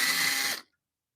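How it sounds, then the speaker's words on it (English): A power drill in a woodturning shop whirs loudly and steadily for about half a second, then cuts off abruptly into silence. "get this drill and clean it off"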